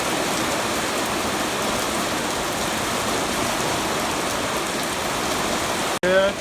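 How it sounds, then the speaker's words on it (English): Steady, heavy rain pouring down on a hayfield in a dense continuous hiss, close and loud, ending with a brief abrupt cut and a short muffled noise. "Yeah, it's coming down now."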